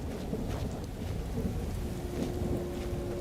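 Low rolling thunder with steady rain from a storm in the video game Skyrim, a continuous rumbling wash at moderate level without any talking.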